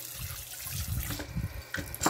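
Short burst of water running from a tap into a container of chicken, splashing close by with a few knocks.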